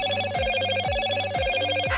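A Moto G6 Plus smartphone ringing with a steady, repeating electronic ringtone, loud and close, its tone pattern cycling evenly about every half second with no talk over it.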